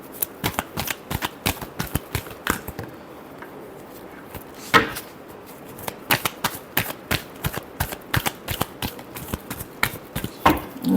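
Tarot cards shuffled by hand in a steady run of quick, crisp riffles and flicks, close and fairly loud, with a brief pause partway through and no talking.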